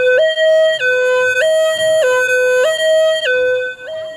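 An ambulance siren sound effect plays in a Tamil stage drama, a loud two-tone wail alternating high and low pitch roughly every 0.6 seconds, heard alone with no voices.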